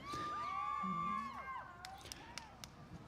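A crowd cheering loudly at an outdoor Special Olympics Delaware building-rappelling event, with whoops and shouts that fade into scattered voices and claps.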